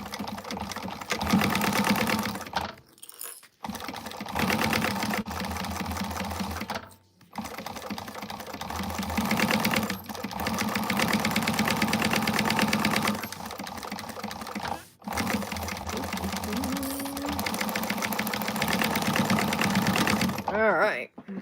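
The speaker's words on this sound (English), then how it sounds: "So I'm going to baste this on, and then once we get it basted on," A sewing machine runs in long steady bursts while basting fabric for a sling bag, broken by a few brief pauses, with a voice talking over parts of it.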